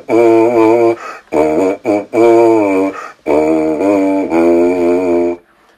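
Loud, buzzy brass mouthpiece tones in several sustained bursts separated by short breaks, rich in harmonics and wavering slightly in pitch.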